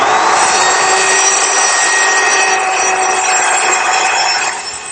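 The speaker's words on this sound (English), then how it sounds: "So what I like to do is use a small circular saw, cutting the piece a little bit longer than what I need." A small circular saw cross-cuts a long, narrow piece of wood, giving a loud, steady high whine that runs for several seconds and starts to wind down at the end.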